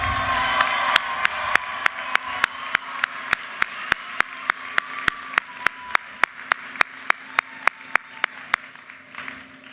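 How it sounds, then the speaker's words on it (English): A commencement crowd at the University of Maryland claps and cheers for a graduate, loud dense applause with whoops and shouts, punctuated by a regular series of sharp clicks, fading toward the end. "Give Lily a round of applause."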